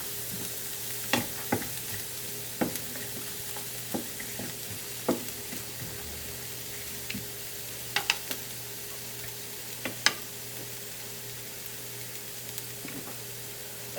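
Finely diced yellow onion and celery sizzle softly and steadily in a pan, with scattered clicks and scrapes of stirring across the whole stretch and no talking.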